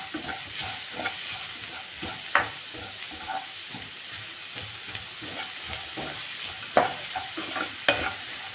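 Potato and tomato curry frying and being stirred in a pan, a continuous close sizzle broken by scraping strokes of a spatula and a few sharper clinks against the metal.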